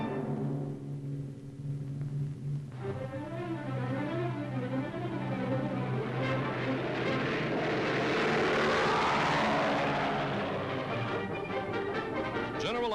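Military aircraft in 1943 flying wounded soldiers to base hospitals, a steady propeller-engine drone with wavering pitch that swells and then holds, running continuously with no voices.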